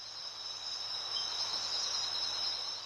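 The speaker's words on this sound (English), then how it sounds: "the nighttime call of crickets" Crickets chirp at night in a dense, continuous high-pitched trill, steady and moderately loud with no voices.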